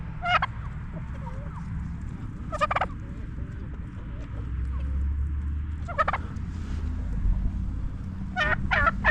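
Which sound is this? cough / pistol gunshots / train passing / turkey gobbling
turkey gobbling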